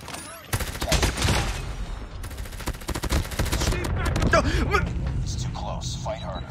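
A QQ9 submachine gun in Call of Duty fires in dense rapid bursts, with sharp repeated cracks loud and close through most of the stretch, while a player talks over the gunfire.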